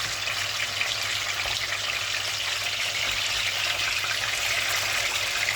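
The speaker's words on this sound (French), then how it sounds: "je vais frire mon aileron" A chicken wing frying in a pan, giving off a steady, dense sizzle that holds at an even level throughout with no talking.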